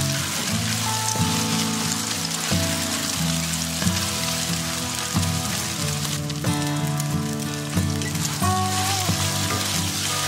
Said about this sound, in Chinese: 起锅烧油，放入秋葵蛋液，